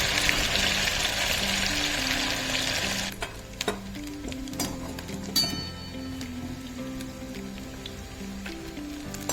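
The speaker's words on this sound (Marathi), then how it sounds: "आता मी त्या तळून घेते" Soybean chunks, boiled in salted water and squeezed dry, fry in hot oil with a loud, steady sizzle that softens after a few seconds into quieter bubbling broken by the clicks and scrapes of stirring.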